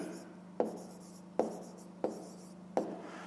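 Pen or chalk writing out a maths solution, four separate sharp strokes at roughly even intervals against a quiet room hum.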